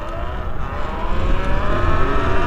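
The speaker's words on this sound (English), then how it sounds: "First time on the Talaria Sting. I'm in power mode 4." A Talaria Sting electric dirt bike accelerates in power mode 4, a rising electric motor whine building steadily over wind rush for a couple of seconds, close and loud.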